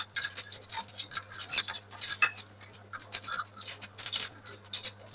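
Mustard seeds popping and crackling in hot oil while making Koduva fish curry, a rapid irregular run of sharp ticks and tiny bursts, close and fairly quiet, with no talk.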